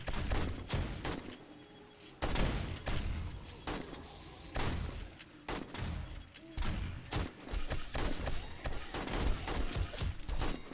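Rapid bursts of gunfire crack in quick succession while shooting at zombies in the survival game 7 Days to Die, loud, sharp shots clustered in volleys with brief pauses between them.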